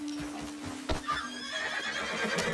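Horse whinnying in Red Dead Redemption 2, a loud drawn-out neigh with soft hoofbeats clopping beneath it, close and clear.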